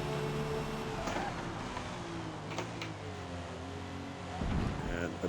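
A '75 BMW #25 3.0 CSL race car in Forza Motorsport at the Nürburgring accelerates with a loud, steady engine drone that rises in pitch, with a brief louder surge near the end.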